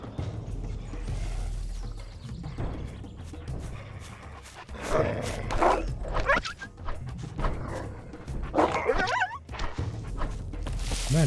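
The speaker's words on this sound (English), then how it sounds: "Okay, I heard barking." A dog barks in a survival video game set around a fountain of youth, giving rough, fairly close bursts mixed with rustling and scuffing game noise.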